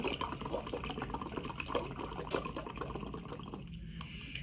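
Steady stream of bubbles blown through a straw into a cup of water, a continuous close gurgling bubble that runs evenly and alone for several seconds.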